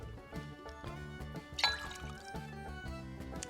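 Diplomatico Reserve aged rum pours for a cocktail, a soft close liquid trickle lasting a few seconds under faint music.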